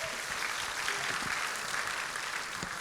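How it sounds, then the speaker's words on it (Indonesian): A church congregation at a worship service applauds: dense, steady clapping from many hands fills the room at an even level throughout. "Tepuk tangan sama Tuhan Yesus."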